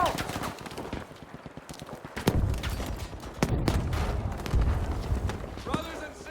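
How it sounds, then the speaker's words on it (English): Grenade thrown and exploding in Battlefield V, with a burst of battlefield gunfire and sharp blasts mid-clip amid a chaotic combat mix, while voices talk over the action. "Throwing grenade out!"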